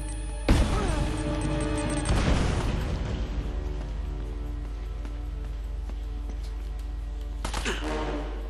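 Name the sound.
grenade explosions in the video game Uncharted: Drake's Fortune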